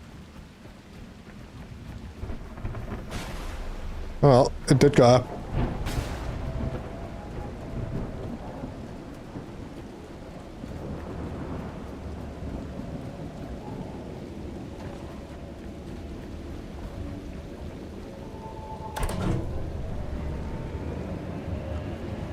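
Rain and thunder in the game The Last Caretaker: a soft, continuous rain wash with low rumbling, broken by a few sharp clanks and bangs early on, with a brief spoken remark.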